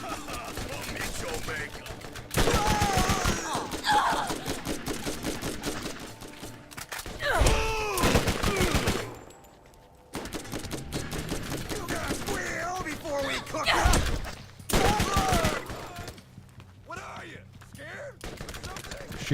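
Bursts of SMG gunfire in Borderlands come in rapid clattering volleys, several separate sprays divided by short pauses, loud and close, with game sounds mixed in.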